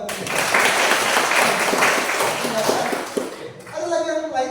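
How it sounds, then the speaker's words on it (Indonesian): A classroom group claps in applause for a point about the church as God's people, a dense steady patter for several seconds that thins out toward the end while a voice and faint speech come in. "Tepuk tangan."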